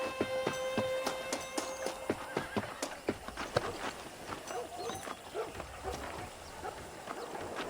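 A horse's hooves clip-clop in a quick, regular rhythm in the Western video game Red Dead Redemption, with a short whinny early on and a soft background bed beneath the hoofbeats.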